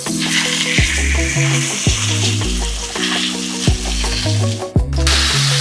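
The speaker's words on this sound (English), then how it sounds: "now we're ready to put our steak in. I'm going to fry that for about 3 to 4 minutes on one side" A ribeye steak sizzles and fries loudly in hot oil in a pan, with a steady crackling hiss and recurring low scraping or thumping pan sounds throughout.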